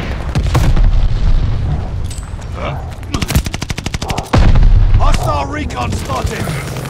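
Call of Duty: Vanguard team deathmatch on PS5 erupts with loud, rapid machine-gun bursts and then a heavy grenade blast, while in-game voices call out over the battle.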